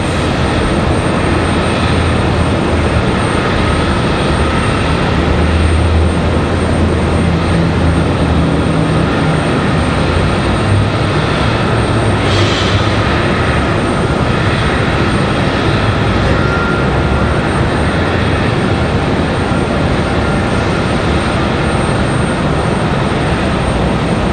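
An ATR turboprop airliner at Raleigh-Durham airport on a stormy evening gives off a loud, continuous engine roar that holds steady throughout.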